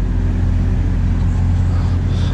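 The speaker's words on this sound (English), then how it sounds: "concrete plant and they constantly have trucks and stuff going through." Heavy trucks rumble past from a concrete plant next door, a steady loud low engine drone with no pauses, heard from outdoors nearby.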